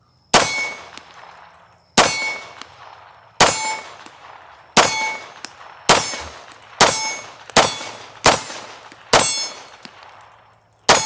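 Steel target struck by pistol bullets from 2011-style handguns such as a Staccato XC, ringing out eight sharp clangs spaced about a second and a half apart, each with a bright metallic ring that fades away, loud and without talk.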